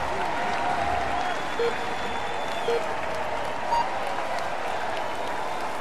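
Spectators applauding a cyclist on the start ramp of a time trial prologue, steady crowd clapping under a faint whistle and scattered beeps.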